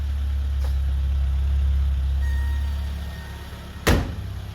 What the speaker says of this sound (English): Right back to a nice smooth idle.